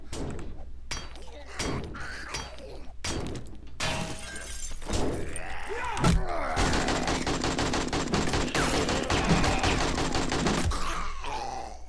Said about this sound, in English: Yeah, they're trying to shoot through the wall there.